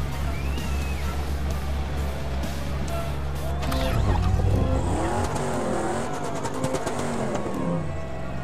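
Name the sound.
rally car starting off on a track in Dakar 18 video game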